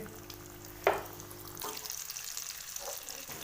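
Eggs hit hot oil with a brief splash at the start, then a steady, close hiss of frying fills the rest, with a faint clink partway through.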